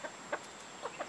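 Homestead chickens clucking faintly outdoors at morning feeding, a few soft separate clucks spaced across a second over steady background hiss.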